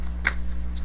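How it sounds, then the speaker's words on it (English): Tarot cards being shuffled by hand, a few soft riffling bursts near and fairly quiet over a steady low electrical hum. "let's give the deck a shuffle here"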